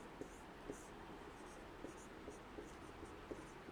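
Handwriting on a surface as Hindi sentences are written during a grammar lesson, with faint scratchy strokes and light periodic taps, quiet and close against a soft background hiss, no clear talking.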